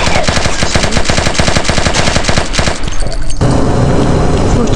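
Kalashnikov rifle fire in a video game, a loud, rapid automatic burst of sharp shots that stops abruptly near the end, followed by a brief ringing tail.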